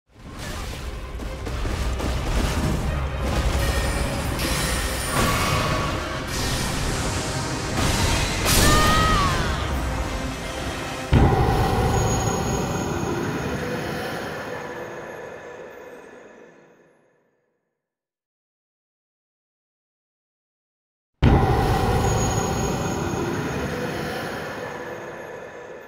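A recreated Elden Ring death sound effect plays as a dense, rumbling metallic whoosh with squealing textures that fades to silence, followed by a sudden renewed burst of the same harsh swell.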